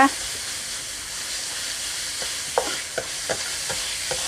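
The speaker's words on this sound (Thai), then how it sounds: "ผัดหมูให้สุก หมูผัดไข่นะคะ" Pork stir-fries in a pan with a continuous hiss and sizzle, followed by several sharp spatula knocks and scrapes against the pan toward the end.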